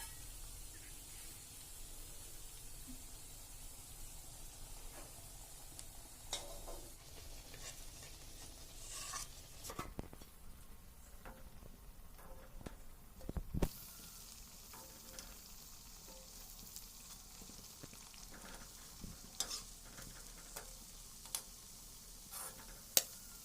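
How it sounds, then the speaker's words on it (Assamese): Malpua batter dropped one at a time into hot refined oil in a wok, a continuous soft sizzle with scattered crackles and ticks, fairly quiet and close. "এতিয়া এখন কেৰাহীত ৰিফাইন তেল গৰম কৰি এটাকৈ দি যাব।"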